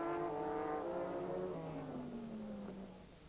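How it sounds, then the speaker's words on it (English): A Toyota GT race car in Japanese GT racing streams past, its engine note falling steadily in pitch as it passes close by and fades away. "Toyota streams past."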